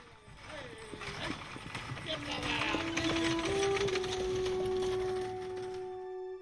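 Hooves of a horse pulling a coach clip-clop in a steady rhythm at moderate distance, set amid Yosemite's old log cabins and covered bridges, while a sustained tone and background voices run alongside.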